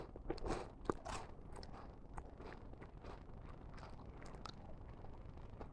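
A dry, crisp crunch of biting into a brittle pink wafer biscuit, followed by quieter chewing crackles close to the mic.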